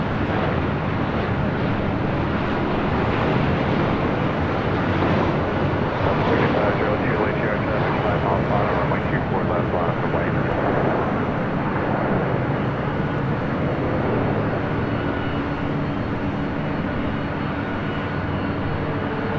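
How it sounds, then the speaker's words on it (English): Delta Airlines Boeing 737-900ER arriving at LAX from Salt Lake City: a steady, loud broadband jet roar holds for the whole stretch, with a voice talking over it. "Next arrival is Delta Airlines flight 2317 coming in from Salt Lake City."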